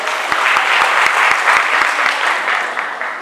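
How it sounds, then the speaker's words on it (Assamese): Applause rings out for Hariprasad Senapati at a best student award ceremony at NBCE Sapekhati, a steady wash of clapping from the audience with a few sharp individual claps standing out near the front. "হৰিপ্ৰসাদ সেনাপতিৰ বাবে হাত চাপৰি"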